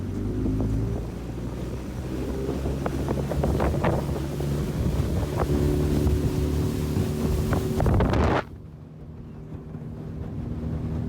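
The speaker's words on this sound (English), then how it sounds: "Here comes the boat to pick us up" Motorboat engine droning steadily on a wilderness lake in Maine, loud and close with wind buffeting the microphone, then cutting off abruptly near the end, leaving quiet lapping water and breeze.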